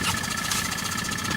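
A warmed-up outboard boat engine idling, a steady close mechanical drone with an even pulsing beat and a constant whine, running alone without any talk.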